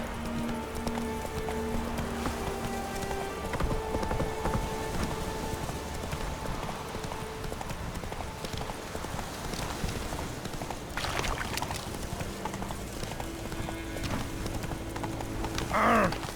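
Roach, Geralt's horse in the fantasy game The Witcher 3, gallops with steady rhythmic hoofbeats that carry on throughout against background music and ambience, a brief whinny near the end.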